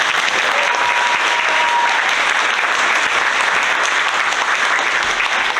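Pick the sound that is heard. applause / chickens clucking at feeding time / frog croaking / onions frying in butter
applause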